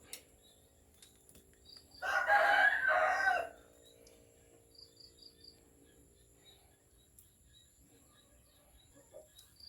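A single rooster crow rings out about a second and a half, fairly close, over a quiet background of steady insect chirping.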